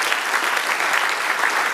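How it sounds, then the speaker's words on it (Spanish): Steady applause from a church congregation, dense and continuous clapping filling the whole moment with no voices on top. "Denle un aplauso al Señor."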